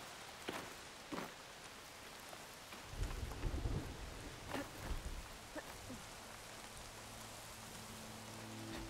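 Rainfall with rolling thunder in Horizon Forbidden West: a low, quiet hiss of rain, a couple of sharp crackles early, then deep rumbling thunder swelling and fading in the background.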